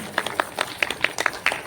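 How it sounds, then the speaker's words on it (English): Brief applause from a conference audience, a short run of distinct, fairly sparse claps at moderate loudness. "Can you give them a round of applause, please?"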